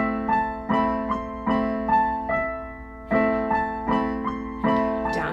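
Piano playing minor chords under a right-hand melody in an easy beginner improvisation, with steady rhythmic chord strikes about every three-quarters of a second that ring and decay, close and clear, no voices.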